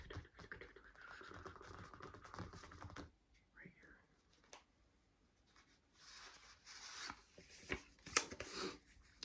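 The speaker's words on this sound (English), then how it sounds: "these cards aren't quite wanting to shuffle like that" Tarot cards are shuffled by hand in quick, crisp riffling and scraping bursts, close and soft, broken by short pauses.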